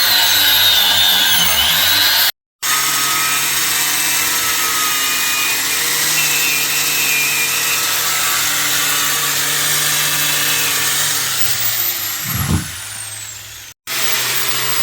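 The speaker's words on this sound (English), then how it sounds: "That's cleaning the pad carrier. Making sure there's no rust where the pads sit." A power tool scrubs rust from the brake pad carrier of a Fiat 500, whirring steadily and loudly for most of the stretch, with two brief cut-offs and a short louder grinding burst near the end.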